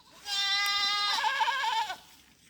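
Goats bleating on a goat farm: a long, wavering, nasal bleat lasting nearly two seconds, loud and close, with faint background noise before and after.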